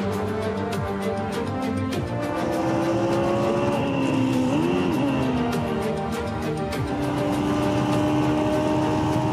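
A race car drives on a track during a competitive race, its engine a loud, steady, continuous roar with rising and falling pitch as it revs through gears, no voices heard.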